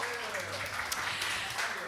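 A cafe audience applauds to welcome a traveling troubadour performer, a steady patter of many hands clapping at moderate distance.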